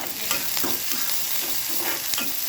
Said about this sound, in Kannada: ಹಾಗೆ ಈರುಳ್ಳಿ ಹಾಕಿ ಸ್ವಲ್ಪ ಫ್ರೈ ಮಾಡೋಣ